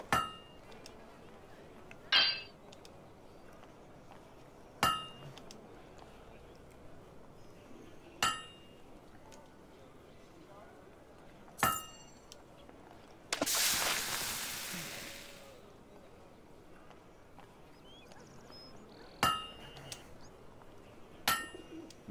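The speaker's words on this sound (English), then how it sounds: "A perfect hammer blow." Hammer blows at a blacksmith's forge in the video game Fable 2: sharp metallic clinks strike at irregular intervals of a few seconds over a quiet background, with one longer burst of noise midway.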